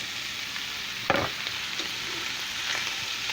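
Peppers and tomatoes being stirred with meat in a pan, a steady hiss of frying with one sharp utensil scrape near the middle and lighter stirring after, no talking.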